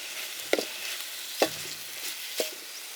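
Goat liver sautés in a pan, a soft steady sizzle broken by three distinct scraping strokes of a spoon against the metal, close and without talk.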